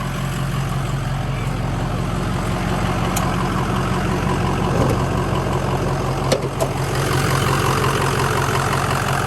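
A Ford 6.0 Powerstroke diesel engine idles steadily with the hood open, a loud, even rumble close by that holds throughout with no talking over it.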